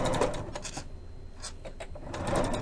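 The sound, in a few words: sewing machine sewing with a concealed zipper foot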